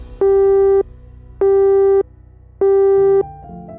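Three evenly spaced, loud electronic beeps of a telephone busy tone sound after a call is cut off, each about half a second long with short silent gaps, followed by faint low background sound.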